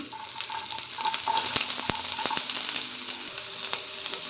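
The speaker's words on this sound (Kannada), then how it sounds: "ಒಂದು ಎರಡು ನಿಮಿಷ ಫ್ರೈ ಆಗಲಿ" Mustard seeds, curry leaves, green chili and onion frying in hot oil for a ridge gourd chutney, a steady close sizzle with occasional pops and a spoon scraping the pan, no talk.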